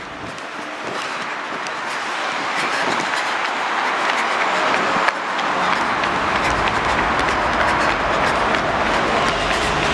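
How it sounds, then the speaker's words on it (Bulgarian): An overground metro train rumbles past close by along the Seine in Paris, with steady rolling noise and rhythmic clacking of wheels over rail joints, loud and continuous throughout. "Метрото! Което тук е надземно, само тук."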